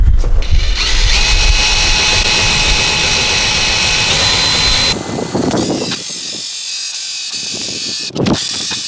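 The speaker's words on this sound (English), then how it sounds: "we're only going to drill it so that we take this aluminum out" A power drill whines loudly and steadily as it bores through aluminum soffit on a house exterior, the high-pitched motor running for several seconds before easing off, followed by a brief second burst.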